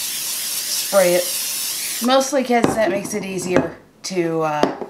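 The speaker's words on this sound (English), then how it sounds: "I'm gonna take a pie plate, spray it" Cooking spray hisses onto a pie plate in a home kitchen, a steady close spray lasting about two seconds with a brief voice over it, followed by someone talking.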